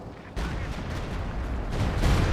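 Gunfire and explosions from the Company of Heroes 2 strategy game in a 2v2 battle: a dense, continuous rumble of shots and blasts that grows louder toward the end, with no voices.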